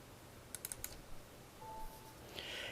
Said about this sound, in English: I'm going to double click on this.